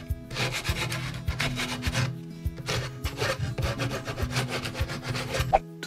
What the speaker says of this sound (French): on va juste finir par passer un petit coup de lime dans nos trous